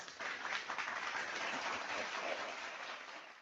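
An audience applauds steadily for a few seconds, a dense, even wash of many hands clapping at moderate volume before cutting off abruptly.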